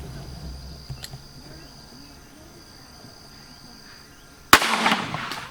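A single sharp, loud shot from a .38 Special revolver fired in an outdoor penetration test cracks out near the end, after a quiet stretch of steady cricket and insect buzzing.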